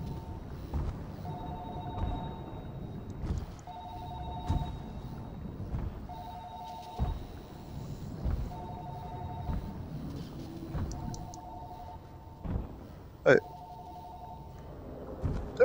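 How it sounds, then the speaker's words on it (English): A telephone rings in a neighbouring room in the underwater survival game Narcosis, its repeating two-tone bursts coming at steady intervals over a low rumbling ambience, muffled and moderately distant. "I guess the phone's coming from next door."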